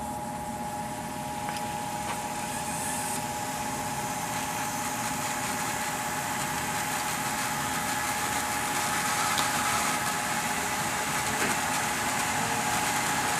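A BOW Model 432 tape cleaner machine running its cleaning cycle gives a steady, even motor hum with a constant mechanical whir and faint vibration, close and unchanging throughout.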